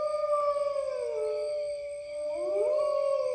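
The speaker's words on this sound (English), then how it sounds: "on dark nights like this, the wolves come out to howl at the moon" Wolves howl in long, rising and falling tones, one voice sustained throughout while a second howl swoops in near the end, clear and alone in a quiet night setting.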